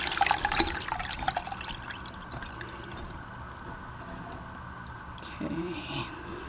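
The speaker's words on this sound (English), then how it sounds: "when you drain the water off the meat, you want to keep it" Water from rehydrated beef splashes and trickles briefly near the start, then a quieter steady pour runs beneath faint background noise, with a small burst of splashing near the end.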